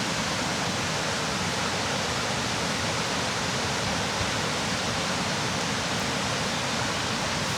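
Steady, full rushing of a river flowing beneath a bridge on a winter walking trail in Dalry, Scotland, a constant broadband roar that holds at an even loudness throughout with no voices.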